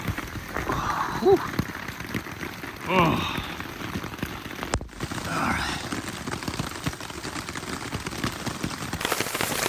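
Heavy storm rain pounds a Hilleberg Niak tent in a dense, steady patter close around the listener, with someone talking over it and brief louder gusts.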